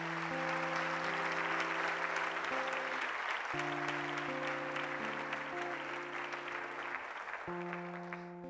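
A church congregation applauds, with a dense, sustained wash of clapping lasting throughout while held musical tones play underneath.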